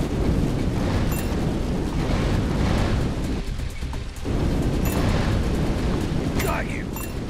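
Roaring, continuous burst of flame from a flamethrower in a video game, loud and dense with rumbling low end, under game chatter and voices throughout, with a brief dip in the middle before the blaze resumes.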